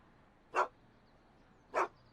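Einstein, the dog in the Back to the Future video game, gives two short, clear barks about a second apart against a quiet background.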